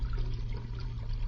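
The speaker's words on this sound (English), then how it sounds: "I pour in the cream" Cream being poured into a pail to make ice cream, a brief continuous liquid gush and splash, close and fairly loud, with no voices.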